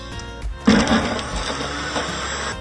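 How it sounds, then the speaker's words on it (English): An electric kitchen grinder starts abruptly and whirs steadily as it grinds pitted dates for date ladoo, a loud continuous motor drone with some rattling. "Next, grind the dates."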